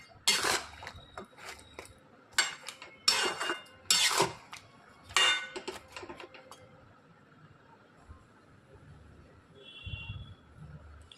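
Potato and pointed gourd curry is stirred in a pan, a spoon clinking and scraping in several sharp bursts over the first six seconds before settling into quiet scraping.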